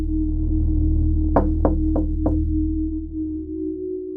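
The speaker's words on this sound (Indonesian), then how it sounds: "3 ketukan pelan, berhenti sebentar, lalu diulang lagi." Slow, muffled knocks on a wall in a hotel room at night: four evenly spaced raps within about a second, standing out over a steady low electrical hum.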